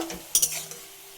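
A spoon clinks and scrapes against a pan while winter vegetables, greens and rohu fish curry ingredients are stirred together, with a couple of bright metallic taps near the middle of a short, quiet stretch.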